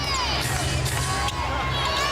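A basketball arena crowd reacts during an NBA game, a dense roar of shouting and whistling voices that stays loud and continuous throughout, with a commentator's voice faintly mixed in.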